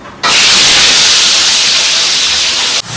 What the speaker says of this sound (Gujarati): તો પહેલાં આપણે મરચાં તળી લઈએ.